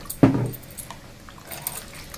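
Water poured into dal in a pot, a short splashing burst that quickly trails off into quiet kitchen background, loud and close.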